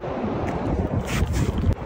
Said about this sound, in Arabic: أنا وصلت للبحر.